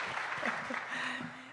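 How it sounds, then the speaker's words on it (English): An audience at an evening event in a museum applauds, a fairly faint, steady wash of clapping with a voice briefly audible underneath. "big applause"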